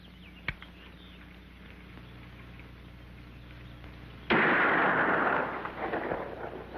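A rifle shot aimed at the top of a fence post cracks out loud and sharp, its burst ringing and slowly fading over a couple of seconds, with a faint click shortly before it.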